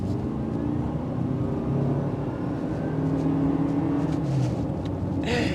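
A 2025 Toyota Camry LE accelerates on the road, its engine and tyre noise a steady low rumble heard from inside the car, with a faint brief sound near the end and no speech.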